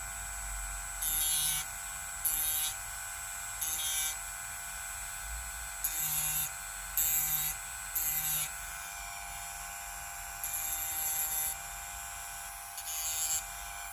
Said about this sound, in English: I just use a Dremel with a cutting disc